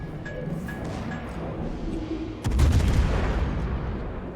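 Naval guns firing high-explosive shells in World of Warships, a sudden heavy booming salvo partway through that rumbles on over steady background engine and water noise.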